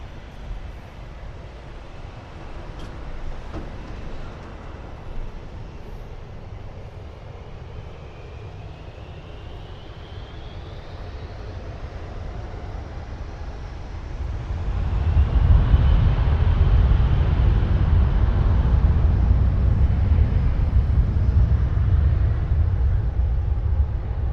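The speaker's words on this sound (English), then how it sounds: "We have another WestJet Boeing 737 just after this little private plane." A WestJet Boeing 737 airliner at Toronto airport, heard as a steady distant jet roar that swells louder and fuller partway through and holds at that level, with no voices.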